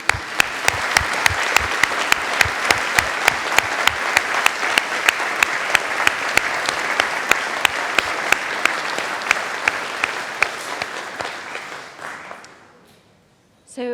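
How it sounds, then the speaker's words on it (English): Graduation ceremony audience applauding parents, sustained hall-wide clapping with a few sharp rhythmic claps cutting through, tapering off and dying out near the end. "I'd like to ask you to join me in a round of applause to thank them for all their support"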